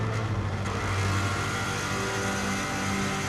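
A 550+ hp Subaru WRX STI race car at full throttle on the Isle of Man TT course, its engine roaring loud and sustained from onboard with a steady low drone and wind rush, no talking.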